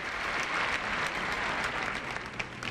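A large arena crowd applauds 16-year-old figure skater Johnny Weir during a men's short program at the 2001 Nationals, with loud, continuous clapping and cheering that stays dense and steady throughout.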